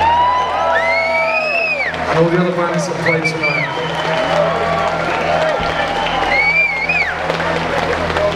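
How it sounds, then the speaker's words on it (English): Concert crowd at a live show clapping and cheering with whoops and whistles, a steady roar of applause under someone speaking into a microphone. "a big round of applause for everybody that organised it"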